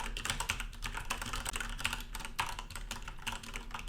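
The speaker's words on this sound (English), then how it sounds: "Now I'm gonna try to type something on the keyboard." Rapid typing on a keyboard with Cherry MX Red switches, a quick irregular stream of light clicky keystrokes, fairly quiet and close with no talk over it.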